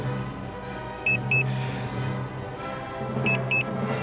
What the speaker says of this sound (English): Long press will stop that beep.